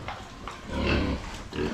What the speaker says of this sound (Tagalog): Ang mga baboy natin oh.